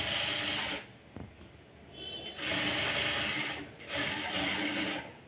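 A sewing machine stitches a cut blouse along a half-inch seam, running in three fast mechanical bursts separated by short pauses, with a whirring, ratcheting clatter close up and no talk.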